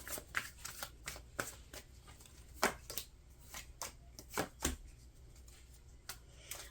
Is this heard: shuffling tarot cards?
yes